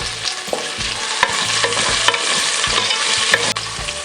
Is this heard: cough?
no